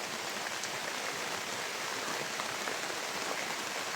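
Steady rain pours down outdoors, a dense, even hiss of drops on surfaces, continuous and fairly loud throughout with no voices.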